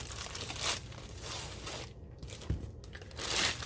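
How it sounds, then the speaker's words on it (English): Clear plastic bags crinkling during an unboxing, repeated close crackling and rustling bursts with a short pause in between, moderately quiet and without speech. "The clear plastic bags again"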